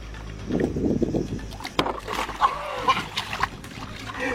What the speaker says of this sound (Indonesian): Bunyi perahu, kandas perahu sudah ini.